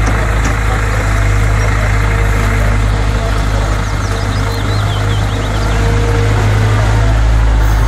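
An excavator engine idles loudly and close, a steady, unbroken low mechanical drone with a faint knocking texture throughout.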